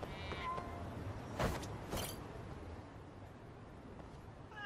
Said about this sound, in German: Das ist ein neues Kätzchen!